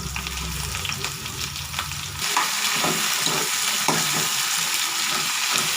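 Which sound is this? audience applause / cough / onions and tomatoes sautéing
onions and tomatoes sautéing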